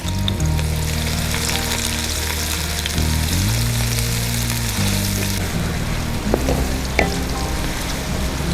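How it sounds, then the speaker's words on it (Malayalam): Two large lengthwise-sliced onions frying in hot oil for chicken Maggi noodles, a steady dense sizzle running the whole time with a few soft stir clicks near the end, close and fairly loud, no voices. "ഇനി ഇതിലോട്ട് 2 വലിയ ഉള്ളി നീളത്തിലരിഞ്ഞ് ചേർത്ത് കൊടുക്കാം"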